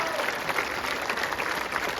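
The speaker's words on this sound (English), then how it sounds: "let's have a round of applause for everybody who traveled to Austin this week" A stadium crowd at a soccer trophy ceremony breaks into sustained, even applause, a dense wash of clapping with some cheering mixed in that holds steady throughout.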